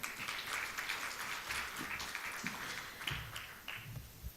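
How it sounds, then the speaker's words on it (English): A conference audience gives a round of applause at a women's leadership event, a moderate, continuous patter of clapping heard from a distance and fairly soft throughout. "So please give her a round of applause"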